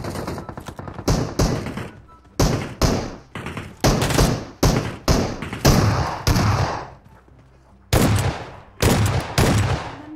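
Rapid bursts of gunfire in PUBG Mobile as players shoot at bosses, coming in repeated loud volleys with short gaps between them and no one talking over it.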